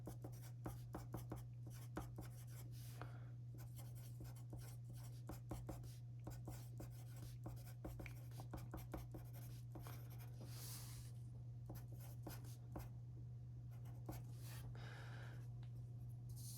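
A pencil writes a name onto a drafting block drawing in a run of faint, quick scratching strokes with short pauses, over a steady low hum.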